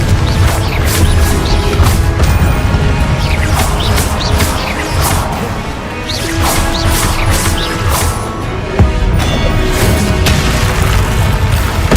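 Loud magical explosions from the Confringo curse in the Hogwarts Legacy game, frequent booming smashes and thwacks over a dense low rumble, easing briefly midway before a sharp crack and more bursts.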